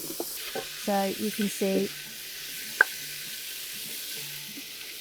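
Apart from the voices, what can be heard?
liquid sloshed into hot pan to deglaze, sizzling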